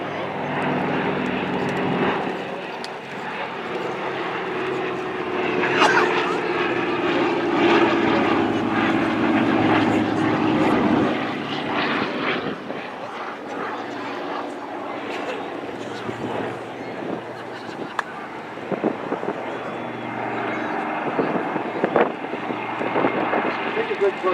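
Douglas DC-3 C-47 propeller transport aircraft at a WW2 weekend parade of bombers and transports, with a loud, droning engine roar passing over wind noise while people talk nearby.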